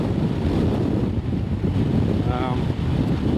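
Strong gusts of wind batter the microphone on the Newfoundland coast, a loud continuous low rumble with a faint voice briefly audible underneath.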